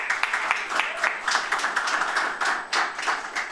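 Audience applause at a diploma graduation ceremony for a graduating student, a steady wash of many hands clapping with sharper individual claps poking through, sustained and fairly close throughout.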